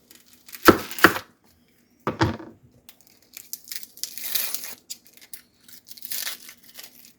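A knife slices through a large onion in a few crisp, crunchy cuts, followed by softer rustling and scraping, close and isolated with quiet gaps between.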